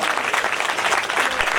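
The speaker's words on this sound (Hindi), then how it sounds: "जोरदार तालियां।" Audience applause at a qawwali urs gathering on stage for an honoured guest, the MLA: dense, steady clapping from a crowd filling the whole short stretch.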